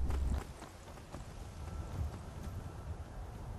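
A horse's hooves clop along in Skyrim, a rapid, close, rhythmic patter that starts heavy and continues at a lighter gallop, with faint wind underneath and no talk.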